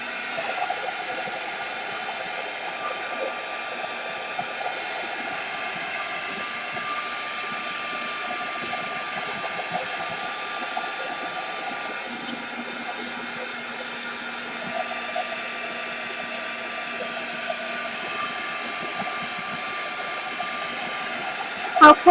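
Heat tool blowing to dry a paper craft layout, a steady airy whine and hum running continuously at moderate level, with no pauses.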